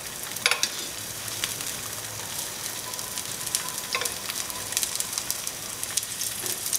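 Pondicherry-style parotta made from maida fries in oil on a pan, giving a steady close sizzle with occasional sharp crackles and spatters, no talking.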